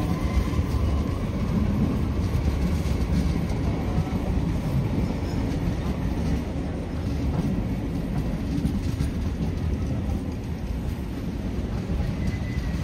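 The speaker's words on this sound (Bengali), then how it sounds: "সঠিক টাইমে কিন্তু আমাদের ট্রেন ছেড়ে দিয়েছে" Passenger train rolling steadily after departing on time, bound toward Dum Dum; a continuous, loud rumble and rattle of wheels and carriages fills the whole stretch without pause, with no voices.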